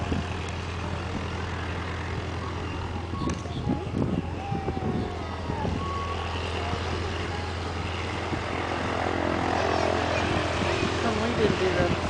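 A Fieseler Storch airplane taxiing out, its propeller engine a steady low drone with a rumbling hum and occasional knocks, heard at moderate distance under faint background noise.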